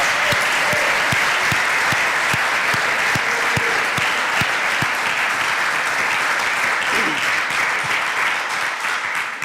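Sustained applause from a large church congregation fills the space, loud and even, with a few sharper individual claps standing out in a steady rhythm.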